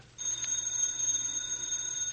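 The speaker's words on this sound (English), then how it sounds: "That's a phone." An old-style telephone bell rings steadily and fairly loudly in the middle of the night, a continuous metallic ringing that starts abruptly and carries on alone with no voices over it.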